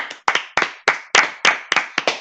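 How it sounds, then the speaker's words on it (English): A single person claps about eight times in a fairly steady rhythm, each clap sharp and close. The claps come alone, with no talking. "The reason I started clapping"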